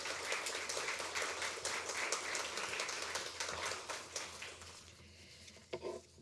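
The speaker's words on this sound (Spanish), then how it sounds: "Un aplauso" Applause from the audience at a philosophy panel discussion, fairly quiet but steady clapping from a modest crowd that fades out near the end, followed by a couple of brief thumps.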